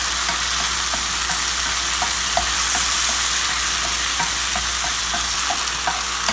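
Spaghetti with shrimp and pork stir-fried in a pan, a loud continuous sizzle with regular utensil scrapes and taps throughout, up close with no talking.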